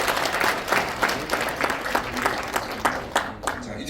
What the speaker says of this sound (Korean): 그쪽에도 박수 한번 쳐주시죠